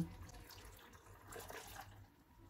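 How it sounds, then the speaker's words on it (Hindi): Water, about one and a half cups, poured into a jug of cut peaches while making peach juice, a faint, soft splashing trickle close by, swelling briefly midway before easing off. "डेढ़ कप पानी डालेंगे।"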